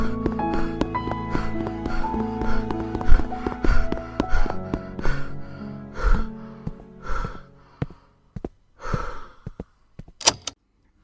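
A voice imitates the heavy, ragged panting of someone running, with a series of quick breathy gasps and snorts that grow sparser toward the end, close and alone.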